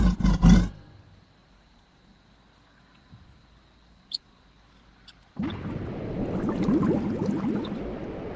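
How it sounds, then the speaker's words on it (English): A King Kong roar sound effect, with a short loud burst at the start, then near silence with a few faint clicks, then a sustained loud, gritty roaring growl that rises and continues to the end. "Here's King Kong."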